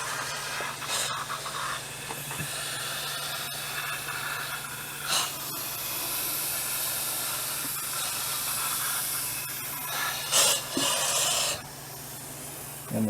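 A powder coating spray gun sprays a turbo with a continuous, loud, airy hiss that holds steady throughout, with brief surges of the spray and faint handling noises.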